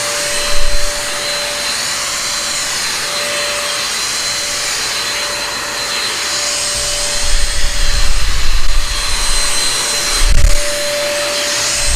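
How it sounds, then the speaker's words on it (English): Nikai mini vacuum cleaner running continuously at close range, a steady whooshing hum with a fixed motor whine and occasional low bumps as it sucks up debris, no voices. "anything will be sucked perfectly inside the vacuum cleaner"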